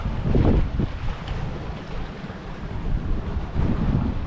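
Strong, gusty wind roars across the microphone beside a rough creek mouth on a fishing trip, with surging low rumble and possible wave wash, loud and continuous with no voices.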